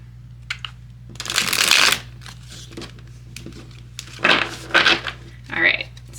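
Tarot cards being shuffled in quick riffling bursts, one long sweep then a few shorter ones, close and crisp, with brief talk in between.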